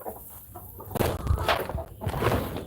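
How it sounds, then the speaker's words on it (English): Chickens cluck nearby in an outdoor yard, a run of short, uneven calls over rustling and movement noise. "Trying to bring more chickens to us, you see?"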